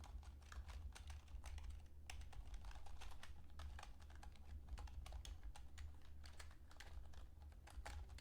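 Fingers type on a computer keyboard in a steady stream of quiet, rapid key clicks over a low hum, entering a username, with no speech.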